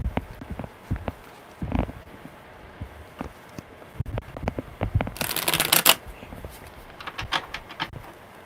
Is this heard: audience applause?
no